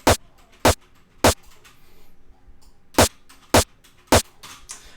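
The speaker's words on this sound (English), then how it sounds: "Okay, so this is the sound of the snare." Snare drum sample used as a foley layer for a euphoric hardstyle kick, struck in six sharp, loud, bright hits in two groups of three, each short and crisp with a quick decay, separated by quiet gaps.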